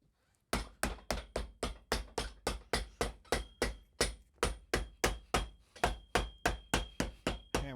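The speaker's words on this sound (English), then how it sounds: "Hammer down the middle," A hammer strikes boot leather down the middle of a Red Wing Iron Ranger boot, about twenty sharp, evenly spaced blows in a steady rhythm, close and clear with no talking.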